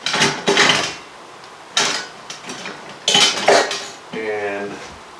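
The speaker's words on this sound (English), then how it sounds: "Just putting my dishes away." Dishes and cutlery clatter and clink as they are put away at home, a few sharp clusters of ceramic and metal knocks followed by a brief ringing rattle, close and alone.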